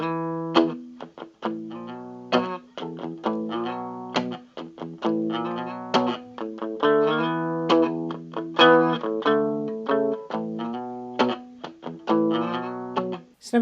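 Electric guitar playing a verse riff in a bluesy style: a sequence of distinct plucked notes and chord stabs with sustained decays, played solo and close without talk.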